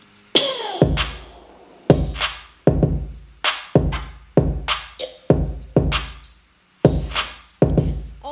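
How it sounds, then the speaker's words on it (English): Full drum pattern for an R&B beat, punchy kicks and crisp claps repeating in a steady loop of sharp hits, loud and close with no voices. "So together all the drums"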